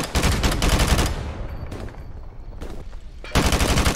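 Rapid automatic gunfire in the Modern Warfare Remastered video game bursts loud and close, pauses with scattered distant shots and faint echoes, then resumes in another dense burst.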